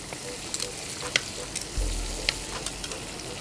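Scallops and other seafood placed into a hot pan for linguine marinara, a steady close frying sizzle with soft clicks and a low thump as the pieces go in.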